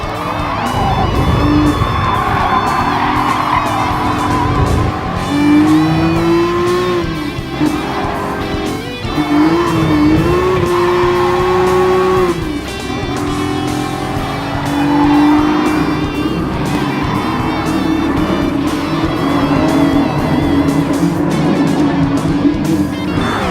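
A Nissan Z sports car in Gran Turismo Sport, a line dating back to the 1969 Datsun 240Z, revs loud and steady, its engine pitch climbing and dropping through gear changes with occasional tire squeal.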